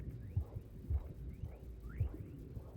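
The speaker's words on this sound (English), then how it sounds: "I hear a heartbeat." A heartbeat plays in the video game Rain World: low, soft, thudding pulses repeat at a steady rhythm, with faint chirping game ambience above them.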